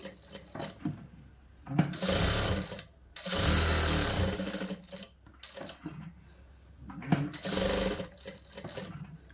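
A sewing machine stitches a boy's school uniform shirt, running in several loud bursts of rapid mechanical whirring separated by short pauses, with quieter handling sounds between the runs.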